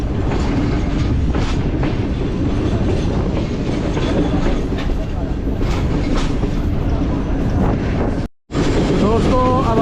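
The Karakoram Express passenger train runs on the rails between Karachi and Lahore, heading toward a bridge over the Indus River, with loud continuous rumble and clickety-clack, wind buffeting the microphone, and a brief dropout near the end.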